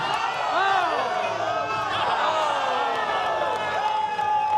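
A crowd at a ping pong championship match cheers and whoops loudly with scattered clapping, and a couple of high shouts rise above the steady roar.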